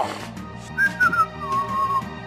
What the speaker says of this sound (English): Nobody whistles in my face.